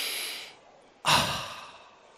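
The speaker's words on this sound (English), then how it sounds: "you take a deep breath" A deep breath drawn in and released during a guided relaxation, a soft drawn-out exhale fading away, then a sudden strong inhale or sigh, close and alone.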